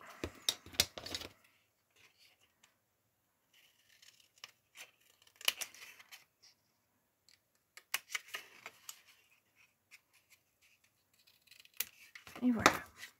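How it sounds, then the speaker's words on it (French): A craft knife scrapes and slices through paper in short bursts of cutting, separated by quiet pauses, with a soft-spoken voice heard now and then. "je viens là avec mon cutter au 1 deuxième. Hop, juste en dessous. Et je coupe."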